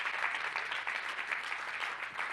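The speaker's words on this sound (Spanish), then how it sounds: "Vamos, aplauda más fuerte." A church congregation in Arizona applauds steadily, a dense, continuous wash of many hands clapping at moderate distance with no speech over it.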